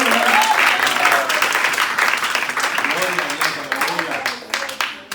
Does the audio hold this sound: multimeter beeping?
no